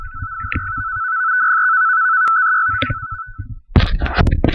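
Pactor FEC radio transmission tones from an AEA PK232 (Pakratt) modem: a loud, sustained, slightly wavering single tone that sits alone for several seconds, with a low voice just before it and a harsh noise burst after it cuts off.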